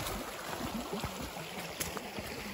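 Creek water running through a streambed at a forest campsite, a steady close wash with small trickling and gurgling splashes throughout, no voices.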